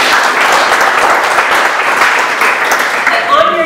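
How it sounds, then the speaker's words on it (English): A room of business people at a North End chamber of commerce meeting breaks into steady, close applause that carries on evenly, with a voice beginning to speak just as it ends. "So let's a round of applause for the North End."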